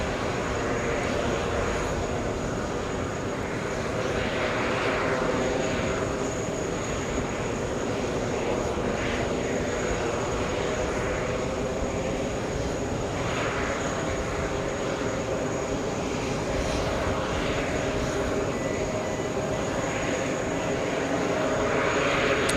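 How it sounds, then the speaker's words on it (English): A plane landing at JFK Airport in New York on a hot summer day, a steady broadband engine roar that holds at a fairly even loudness throughout, with no voices over it. "We have the LA flight landing."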